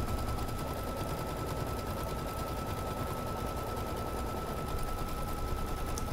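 Sewing machine running a continuous tacking stitch through quilt batting and printed fabric, a fast, even mechanical chatter held steadily up close without any talking.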